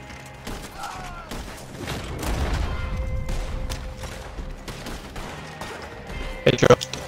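Gunfire in the video game Red Dead Redemption 2 crackles faintly in the background, then a louder cluster of shots hits near the end.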